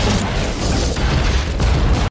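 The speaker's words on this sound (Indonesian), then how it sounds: "seseorang menekan tuas bom dan meledakkan gerbong penumpang" A bomb explodes and blows up a train passenger carriage, a loud, broadband blast with rumbling debris that roars continuously for about two seconds before cutting off abruptly.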